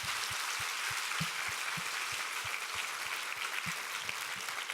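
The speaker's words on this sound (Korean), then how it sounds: "우리 하나님께 감사와 영광의 박수 올려드리겠습니다." A church congregation at a summer revival service applauds steadily, a broad hiss of many hands with an even, rhythmic thump of clapping running throughout.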